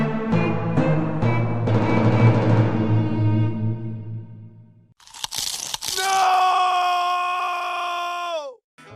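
A loud, distorted scream erupts in a horror creepypasta game version of Plants vs Zombies, a harsh noisy burst with a few sharp cracks before a sustained wavering shriek that cuts off abruptly, following a low droning groan.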